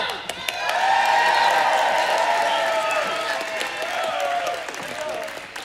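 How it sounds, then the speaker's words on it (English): A live concert crowd at a tribute show in an arena cheers and applauds loudly for the drummer, a sustained roar of clapping with whoops and shouts swelling early and holding steady throughout. "give him a huge cheer and make him feel very welcome"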